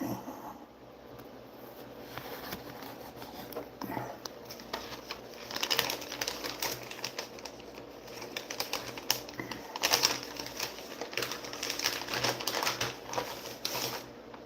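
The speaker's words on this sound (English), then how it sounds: "I'm just dicing onions and putting them in vacuum seal bags so I can freeze them." Onions are diced with a plunger-style pop-up dicer, giving a continuous run of rapid clacking chops and crisp crunching, moderately loud and fairly close, with no voices over it.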